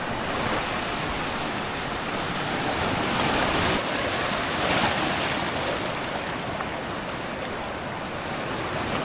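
Sea waves wash in at Redi Beach on the Konkan coast, a steady broad roar of surf with gentle swells in loudness, mixed with wind buffeting the microphone, no voices.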